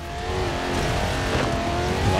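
Engine of an Impala car racing in the video game Forza Horizon 4 drones loudly and steadily at high revs, a continuous close-up roar with a faint rising pitch.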